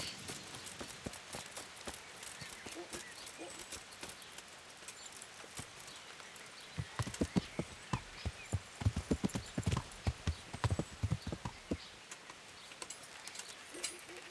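A horse's hooves clip-clop on the ground in the medieval video game Kingdom Come: Deliverance, a steady walking rhythm that grows louder and denser midway, with light ambient sound underneath.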